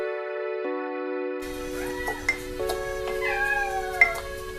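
An indoor house cat meows several times nearby, drawn-out and rising calls with a whiny edge in a quiet room, following a steady tone at the start.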